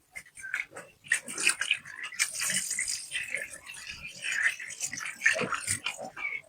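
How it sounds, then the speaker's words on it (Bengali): Water runs from a kitchen tap as hands are rinsed partway through making butter chicken, a steady hiss that swells and fades beneath ongoing talk. "আমি হাতটা একটু ধুয়ে নিচ্ছি।"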